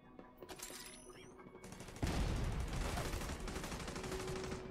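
Automated turret gunfire in The Division 2 video game, a dense stream of rapid shots that swells into a loud, sustained barrage of overlapping fire and impacts.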